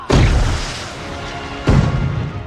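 Fireworks bursting in a distant night scene of a fantasy drama, with two heavy booming blasts, one at the start and another midway, each trailing off into rumbling echo.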